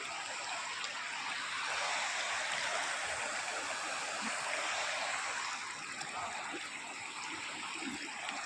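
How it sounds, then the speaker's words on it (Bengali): River water rushing down a channel near Armoor, Telangana, a steady broadband roar of flowing water that stays loud and continuous throughout, easing slightly toward the end. "এখানটা দিয়ে জল নামছে।"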